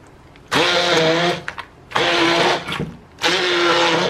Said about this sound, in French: une boîte de thon et je viens mixer tout ça au mixeur plongeur